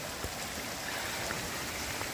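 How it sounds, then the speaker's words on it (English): Water runs steadily over rocks at a small river crossing on a rainy trail, a soft, even rushing hiss with no voices. "We have a really pretty little river crossing here."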